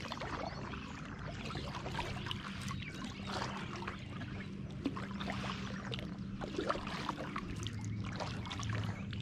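Kayak paddling on a lake in summer: soft, repeated paddle strokes with light splashing and trickling water, heard close by at a low, even level, with no talking.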